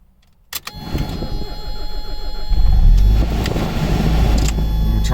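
A 2021 Mazda Miata's engine cold starting: after a brief silence a starter click, then the engine catches and settles into a steady, loud idle that grows fuller about halfway through.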